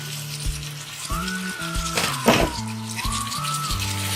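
Aloo methi sabzi of unpeeled potatoes and fenugreek sizzling in a pan as it is stirred after covered cooking on medium flame, a close sizzle with a brief scrape midway over faint background music, no speech.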